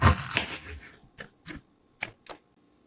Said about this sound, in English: I'm going to cut my nectarine.